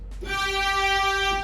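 One held string-section note from a Yamaha PSR-SX900 keyboard's Seattle violas voice, a warm, steady viola tone sustained briefly with a soft attack and no other sounds.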